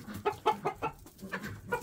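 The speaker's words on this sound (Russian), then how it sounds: "Петухи." Roosters in a poultry yard give a series of clucking, crowing calls, about seven rhythmic bursts in under two seconds, close and moderately loud with faint background noise.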